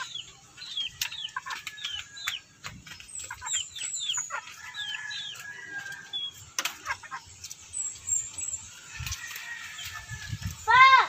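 Soft, low clucking from a brooding hen sitting on eggs close by, with other chickens chirping and calling in the background and a brief rustle near the end.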